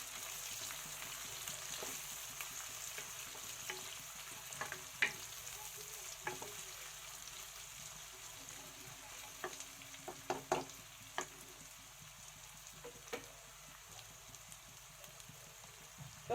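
Chopped onions fry in a pan, browning for chicken kosha. A soft, steady sizzle hisses throughout, with scattered small crackles and pops and no talking.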